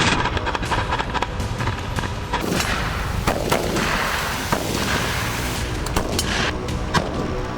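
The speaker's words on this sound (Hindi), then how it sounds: "यहां बैटल ग्राउंड में रूस के ज़ापाट ग्रुप ने बेहिसाब बमबारी की" Heavy artillery bombardment on a battlefield in Kupiansk, Ukraine, with dense, loud booms and rumbling blasts coming in rapid succession, layered over continuous roaring noise with no voices.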